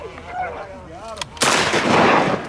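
Shotgun fired at ducks during a Minnesota duck hunt, a single loud, close blast that breaks in after a stretch of quacking duck calls.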